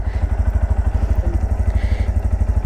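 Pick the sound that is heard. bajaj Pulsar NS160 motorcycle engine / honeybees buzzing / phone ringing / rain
bajaj Pulsar NS160 motorcycle engine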